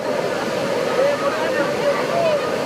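Water rushes over Bhushi Dam in Lonavala during the monsoon, a dense steady roar in the background with people talking over it.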